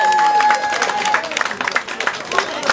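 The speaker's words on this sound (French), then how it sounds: "Est-ce qu'on peut applaudir cette famille?" Wedding guests at a customary marriage ceremony applaud in a dense, sustained burst of clapping, with crowd noise and voices mixed throughout and a high whistle-like tone early on.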